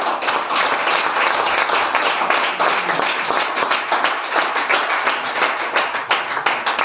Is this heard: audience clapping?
yes